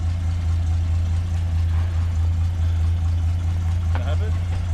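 Up close, a Ford XW 250 pre-crossflow engine idles with a steady, deep, rough rumble just after its first start in 17 years, and a brief voice cuts in near the end.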